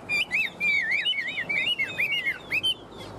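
A tame Chinese hwamei songbird sings loud, close, continuous whistled phrases with rapid rising and falling notes that fill the whole stretch.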